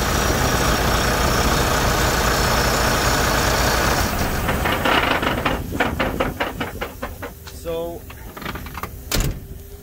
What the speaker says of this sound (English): 1500 RPM. Again at idle.